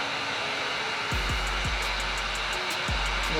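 A heat gun blows a steady, close, loud hiss while warming a vinyl wrap on the rear serrations of a Glock 19 slide, with a few brief shifts in pitch partway through and no voices.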